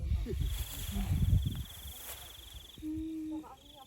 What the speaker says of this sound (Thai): เสียงจิ้งหรีดร้อง